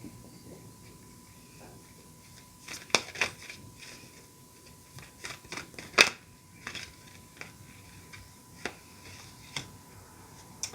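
Oracle cards being shuffled and handled, with scattered soft clicks, snaps and riffling flutters close by, irregular and fairly quiet against a low background.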